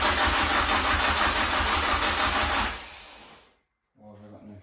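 A Toyota KE70 Corolla engine, low on fuel pressure, cranks and runs loudly with a steady pulsing note. It winds down and cuts out, then after a short silence a lower rumble starts up again.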